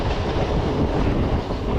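A MEMU passenger train running between Vijayawada and Bhimavaram makes a loud, steady broadband rumble with faint wheel clatter, heard up close from on board and with no voices.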